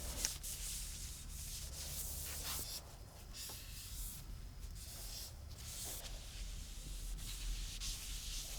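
Steady hand-rubbing of sealer across a wooden guitar top during a luthier's build, a continuous soft broadband swish that keeps up without pause, close and moderately quiet, with no voices.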